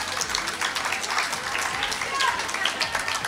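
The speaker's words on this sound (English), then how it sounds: "give them a loud round of applause" Audience applause at a Hindu school graduation ceremony, a steady wash of many hands clapping at moderate loudness for several seconds, with faint voices mixed in.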